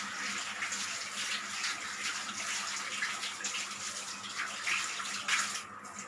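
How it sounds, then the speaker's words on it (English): Hands being washed under a running kitchen tap before cooking, a steady hiss of flowing water with faint splashes and small shifts as the hands move through the stream. "So yeah, washing the hands."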